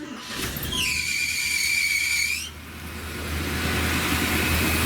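Rebuilt engine of a 1979 Buick Park Avenue starting up: a high belt squeal rises for a couple of seconds and stops, leaving a steady idle rumble, close and loud, with no talk.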